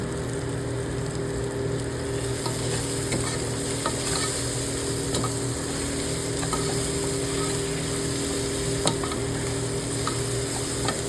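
Khichdi of rice, moong, toor and masoor dal with peanuts is stirred in a pot after salt goes in, a steady close sizzle with soft scraping stirs and faint clicks throughout.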